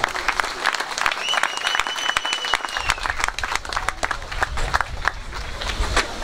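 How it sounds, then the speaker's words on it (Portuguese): A crowd at a summer band picnic claps loudly and steadily for the band, dense applause running throughout with a few faint voices underneath. "E uma salva de palmas à nossa banda."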